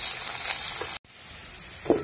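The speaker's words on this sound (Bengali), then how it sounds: "তেল গরম হয়ে গেছে, এবার আমি পেঁয়াজটা ভেজে নেব।" Onions frying in hot oil, a steady broadband sizzle that cuts out abruptly midway, then resumes at a lower level, with a brief stirring clatter near the end.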